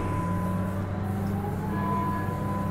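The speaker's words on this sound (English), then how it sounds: "Oh, now we're going on a tram?" A tram rolls along in Mass Effect Legendary Edition, a steady low mechanical rumble with a faint humming tone that holds evenly throughout, with no voices.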